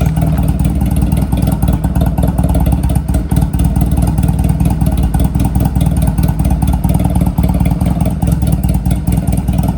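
Honda Rebel 250 motorcycle engine, running again after sitting unused for years, idles steadily with a clattery mid-pitched thrum and a few light revs, close and loud throughout.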